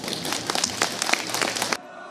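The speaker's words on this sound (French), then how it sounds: "Mon équipe m'a dit « Laissez-vous applaudir »." Studio audience applause on a television talk show, a dense burst of clapping lasting under two seconds before cutting off abruptly.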